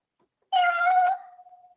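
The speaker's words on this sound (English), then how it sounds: "Begging meow." A cat begging with a single loud, close meow that rises, holds, then tapers into a long thin whine fading away, with silence before it.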